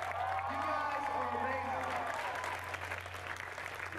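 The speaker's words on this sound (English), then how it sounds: "Metrocon, give yourself one more round of applause." A convention concert audience applauds, a dense, even wash of clapping under a speaking voice, with a steady low hum running throughout.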